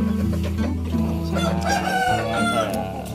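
Indio Gigante chickens on a farm crow and cluck, one long crow rising over continuous clucking and calls from many birds nearby, with other farmyard sounds in the background.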